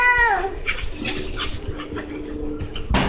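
A puppy playing gives a high whimpering yelp at the start, then small scuffling and soft yips through steady background noise, with a sharp knock near the end.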